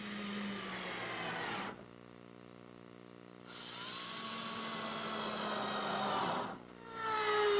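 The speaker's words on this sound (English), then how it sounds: "Now to trim off any excess plywood, I'm simply using my laminate trimmer." A laminate trimmer runs in a loud, high-pitched whine while cutting excess plywood flush on a homemade boat, dropping to a lower idle hum in the middle and briefly again near the end before rising back into the cut.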